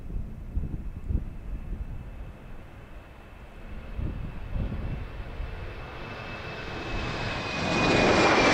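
At Amsterdam Airport a jet airliner takes off, its engine roar building steadily from a distant rumble to a loud, broad rush over several seconds, with a thin high whine riding above it.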